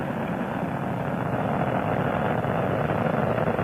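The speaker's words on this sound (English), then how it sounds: "Seconds into the flight, Atlantis' engines are now throttling" Space Shuttle Atlantis roars during launch, a loud, continuous, broadband rumble that holds steady throughout without a break.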